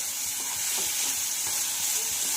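Ingredients for an oats khichdi fry in a pan, giving a continuous, dense sizzle that stays close and steady throughout with no voices.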